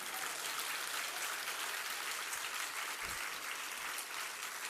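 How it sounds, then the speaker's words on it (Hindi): Sustained audience applause at a Jain religious discourse during the Das Lakshan festival, a dense steady wash of many hands clapping throughout, with no talk over it. "ताली बजानो तो अच्छे ढंग से तो बढ़ाओ।"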